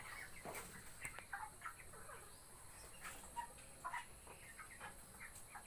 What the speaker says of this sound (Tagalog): ito yung mga bansot nating mga manok